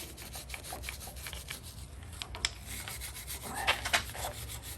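Rust being scrubbed off a crash-damaged NTC-365 Big Cam Cummins engine block: continuous, fairly quiet abrasive rubbing with a few sharper scrapes near the end, no speech.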